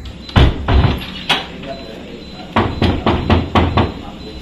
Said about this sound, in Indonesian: Siapa sih ketok-ketok pintu?